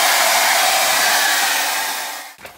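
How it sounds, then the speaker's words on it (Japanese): A hair dryer blows steadily with a loud, airy hiss at a family campsite, then cuts off abruptly near the end, leaving a brief quiet moment with a small knock. "ドライヤーするよ"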